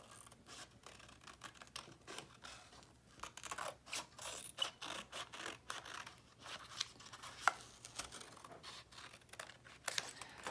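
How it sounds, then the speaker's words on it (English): Scissors cut around a paper piece for a December Daily scrapbook page, a faint series of soft, irregular snips and paper rustles repeating close by without speech. "I'm just going to cut around it"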